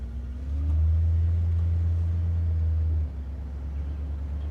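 A 1965 Ford Galaxie 500 XL, Canadian-built, drives along with a deep, smooth low engine rumble that swells, holds steady for a few seconds, then drops back to a quieter idle-like hum.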